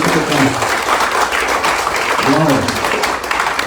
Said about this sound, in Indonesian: Mari bagi tepukan.